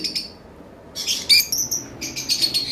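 Lovebirds chirping and calling in short bright bursts, close by, with brief pauses between flurries; no talk.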